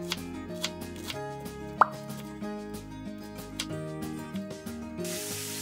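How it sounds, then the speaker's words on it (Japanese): A kitchen knife shreds cabbage into thin strips on a cutting board, giving quick, light, evenly spaced chops with one sharper knock, heard under steady background music. "キャベツは千切り。"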